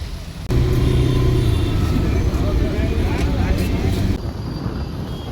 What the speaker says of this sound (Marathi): फेस्टिवलला जायच्या आधी एवढी ट्रॅफिक सहन करायला लागतं.